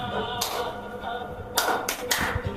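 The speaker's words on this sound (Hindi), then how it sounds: "ताली मारो।" A few sharp hand claps ring out in an indoor room, about four scattered slaps, fairly close, over a low murmur of background voices.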